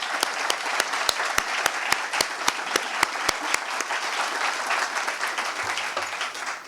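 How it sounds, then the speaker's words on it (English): An audience at a documentary film tribute event bursts into sustained applause, dense and loud throughout, with a few sharp nearby claps standing out in a steady rhythm before it evens into a continuous roar. "Please, a round of applause for these two luminaries."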